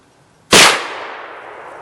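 A single black powder rifle shot fired at a string of carrots hanging by a stump on an outdoor woodswalk range: one sharp, very loud blast followed by a long fading rumble.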